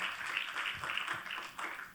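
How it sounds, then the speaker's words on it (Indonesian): A church congregation applauds together during a sermon, a dense, steady wash of many hands clapping at moderate volume for about two seconds with no voices over it. "Berikan tepuk tangan buat Tuhan."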